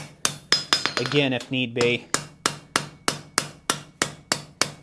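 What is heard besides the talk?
hammering hot metal for a forge collar weld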